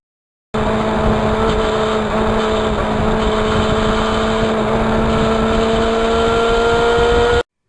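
A 1991 Yamaha FZR 1000cc motorcycle engine runs steadily up close, a continuous loud droning tone with constant harmonics and no pauses, heard alone without talk.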